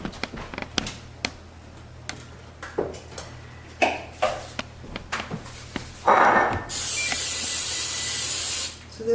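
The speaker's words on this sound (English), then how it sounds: "Spray this with cooking spray." Cooking spray hissing from a can into an oven-proof bowl, a few short bursts after light clatter, then a long steady loud spray close to the mic.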